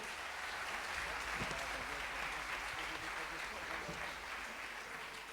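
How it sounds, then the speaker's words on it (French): Audience applause for author Anthony Passeron at a literary event, a soft, steady wash of many hands clapping that stays fairly distant and even, with faint voices underneath. "que l'on peut applaudir bien fort, s'il vous plaît."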